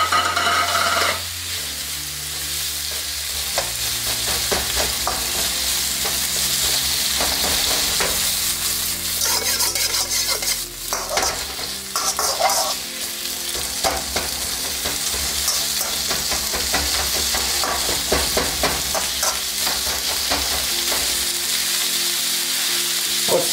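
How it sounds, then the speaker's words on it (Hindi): Sliced onion and capsicum fry in a hot pan for street-style Indian chow mein, a loud steady sizzle with frequent scraping stirs and spatula clicks throughout, no talking. "अब डालेंगे इसके अंदर प्याज और शिमला मिर्च।"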